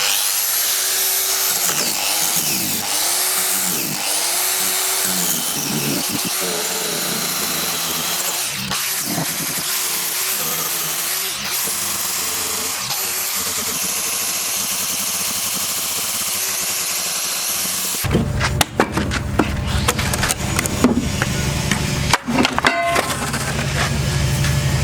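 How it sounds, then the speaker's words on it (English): A power grinder working the surface of a boat hull to prepare it for bonding a new bulb, a steady loud whine with rough scraping, then harsher clattering bursts near the end. "I'm grinding this off to get enough surface to have a good connection between the new bulb and the hull."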